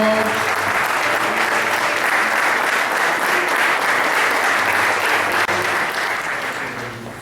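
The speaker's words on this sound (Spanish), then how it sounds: "Vamos a recibirlo con una salva de palmas, Señor." A church congregation breaks into loud, sustained applause at a Cumbre 2015 service, steady dense clapping filling the space and only easing slightly near the end.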